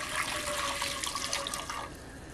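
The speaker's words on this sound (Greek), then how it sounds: "θα βάλουμε 500 γραμμάρια νερό" Water pours into a cooking pot over the stove, a continuous splashing rush that tapers off near the end, close and fairly loud, with no talk.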